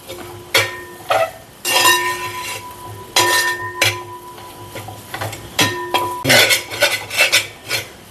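A spoon scrapes and clanks against a metal pot in irregular bursts, stirring food with ringing metallic knocks between quieter pauses.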